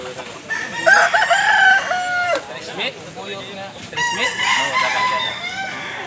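A gamefowl rooster crows loudly several times in a row, with long harmonic calls that rise and fall, joined by other nearby crowing roosters, at a gamefowl seller in Consolacion, northern Cebu, Philippines.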